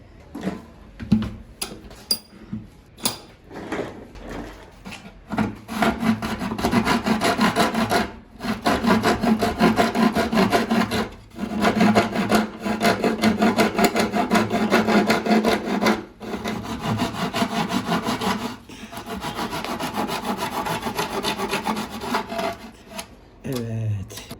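A saw cuts through the back wood of a bağlama (saz) during repair, loud rhythmic strokes in long bursts with brief pauses, close up and alone without talk.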